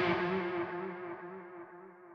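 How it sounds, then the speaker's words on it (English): A guitar tone through the sky reverb setting of a Sonicake Matribox effects unit blooms into a wide, shimmering wash that sustains and slowly fades over two seconds, heard alone. "Let's hear the sky reverb."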